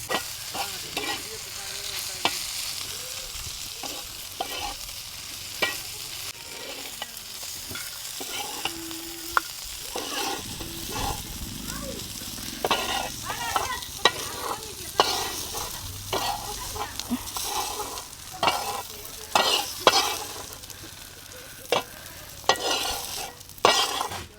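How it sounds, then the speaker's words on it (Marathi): Chillies and peanuts fry and sizzle in a pan on a wood-fired village stove, with steady crackling broken by frequent loud scrapes and stirs of a spatula. There is no talk. "मिरच्या बिरच्या तळून घेतल्यात आहे शेंगदाणे टाकलेत"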